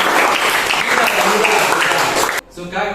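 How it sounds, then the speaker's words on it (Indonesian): A classroom of students claps together in a loud, dense burst that cuts off abruptly near the end, followed by a voice speaking. "Oke, tepuk tangan dong."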